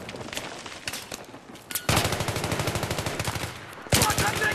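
Gunfire in the video game Battlefield 3 during a team deathmatch: scattered shots give way to a sustained rapid machine-gun burst, then a fresh loud volley near the end, close and dominant with no talking.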